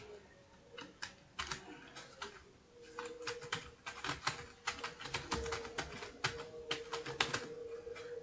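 Rapid typing on a computer keyboard while entering text in Microsoft Word, a steady run of close, crisp key clicks with irregular bursts and pauses and no voices.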